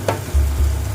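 Mustard and poppy seed paste hits hot oil and gives a sudden loud sizzle with a low frying rumble, heard close up with stirring and no talk.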